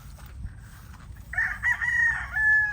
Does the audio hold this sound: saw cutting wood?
no